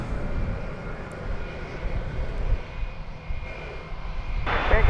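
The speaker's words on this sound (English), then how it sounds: "arriving from Los Angeles, flight 1639 and Airbus A321. Over there on runway 36 left." Airbus A321 jet engines at an airport runway give a steady, distant roar that swells slightly toward the end, with no talk heard.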